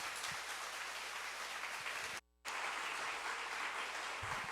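Sustained applause from a church congregation welcoming the pastor at a 20th-anniversary thanksgiving service, loud and steady throughout with one brief cut in the middle.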